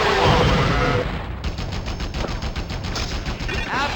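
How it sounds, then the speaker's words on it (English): Attack helicopter machine-gun fire in a Spider-Man video game, a loud sustained rattling burst of rapid shots with a hard, dense texture throughout. "you bring out your attack helicopter with missiles and machine guns on the bottom"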